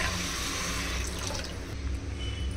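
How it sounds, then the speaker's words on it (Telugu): Four glasses of water poured into a cooking pot over rice with ginger-garlic paste for bagara rice, a continuous close splashing pour that runs steadily and alone. "4 గ్లాసు వాటర్ వేస్తున్నా."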